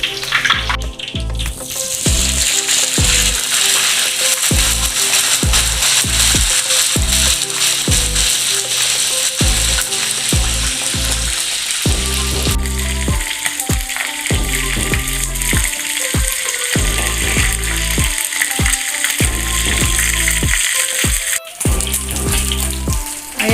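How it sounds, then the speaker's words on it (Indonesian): Loud, steady sizzling and crackling of chicken frying in hot oil for Padang-style soy sauce chicken, continuous throughout with popping bursts and no talking. "Kita lanjut menggoreng ayam."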